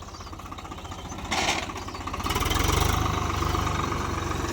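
A Swaraj tractor stuck in deep mud labours with a rough, pulsing diesel chug as its wheels spin, the engine swelling louder midway with a brief hissy burst, steady and close throughout.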